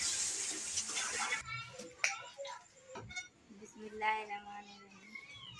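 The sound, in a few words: water running from a tap, filling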